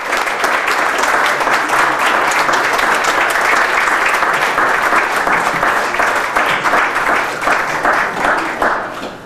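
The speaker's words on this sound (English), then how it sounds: "Let's give them one more round of applause." A large audience applauds loudly and steadily at a 4-H fashion revue for Marion and Washington counties, dense clapping sustained throughout without pause.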